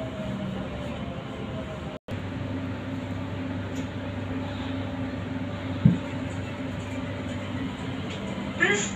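A Gold Line metro train in Qatar rolls along with a steady low rumble and hum, a brief dropout partway through and a couple of small clunks near the end.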